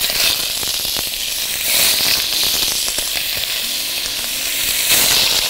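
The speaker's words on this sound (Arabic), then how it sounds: "على سنه الزيت دي هجري عليها كمان بمكعب زبده، وبسرعه انزل بالفراخ، سمع الترقعه" Chicken pieces dropped into hot oil and butter in a pan sizzle and crackle loudly and steadily, with sharp popping spatters throughout and no talking.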